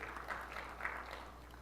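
Modest audience applause at a tech conference demo, a faint, thin patter of clapping heard from a distance over a low electrical hum.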